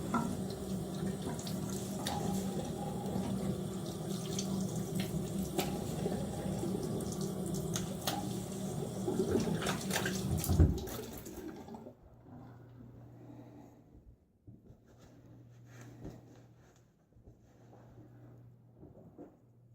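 Running tap water rinsing a razor, a steady close splashing rush for about eleven seconds that cuts off abruptly, leaving faint low handling noises and quiet drips.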